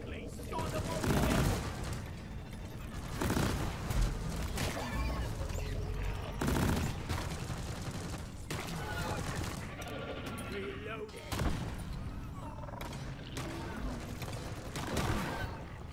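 Gunfire in Deep Rock Galactic while shooting at flyers, with loud bursts and rattling volleys repeating every couple of seconds amid game noise, and players talking over it.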